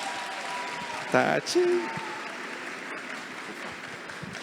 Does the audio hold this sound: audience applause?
yes